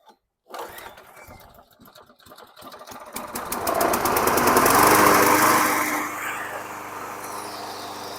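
A 1998 Craftsman High Tunnel self-propelled lawn mower starts up in a front yard, its pull-start sputters giving way to a loud, rising engine roar that settles into a steady running drone close by.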